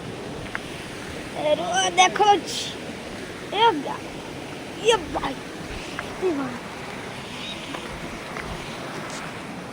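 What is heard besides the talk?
Dhadhai waterfall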